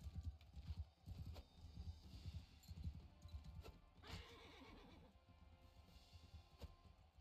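A horse whinnies repeatedly with hooves clip-clopping in the Mount & Blade: Bannerlord video game, fairly faint and continuous with a brief rise in the middle.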